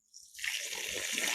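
Water spraying steadily from a leaking pipe in a newly built transmigration house where no tap is fitted yet, a close hissing gush that starts abruptly and continues without talk.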